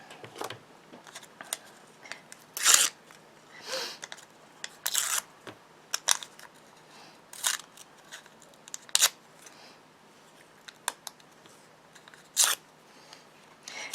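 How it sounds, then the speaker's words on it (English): Glue dots being torn off a strip for card making, about four to a dozen sharp papery rips and crackles in quick irregular bursts, close and alone. "I am tearing off 4 of them."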